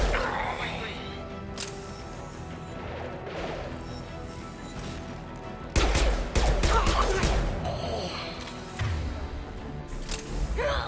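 Rifle gunfire in the video game Mass Effect 2 comes as loud, abrupt volleys over a busy background of game sound, with one heavy burst and then a second later on, while a person talks over the action.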